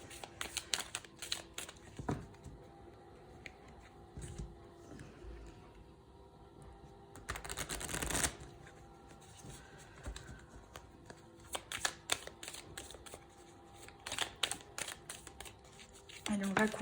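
A deck of tarot cards being shuffled and cut: repeated crisp riffling bursts and soft shuffling clicks in irregular clusters, heard close under someone speaking French.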